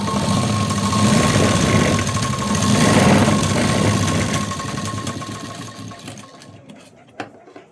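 A sewing machine stitching tucks on a blouse, a steady close mechanical whir with a constant hum that slows and stops near the end, followed by a faint click.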